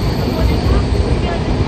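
The Darjeeling Mail train, heard from inside a crowded general-class coach on the run from New Jalpaiguri to Sealdah, gives a loud continuous rumble with rattling carriage noise and a faint clatter of wheels. Passengers' voices blur into the din.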